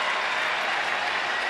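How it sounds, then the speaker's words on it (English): A big Orioles home crowd at a baseball game cheering and clapping loudly for Matt Wieters, a dense, sustained roar of applause. "Big Oriole crowd making some noise for Matt Wieters"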